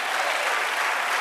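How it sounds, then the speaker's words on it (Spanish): A church congregation during a Spanish-language service claps together in steady, dense applause, a bright even patter that carries on throughout the short stretch with no talk over it. "Dale otro aplauso al Señor."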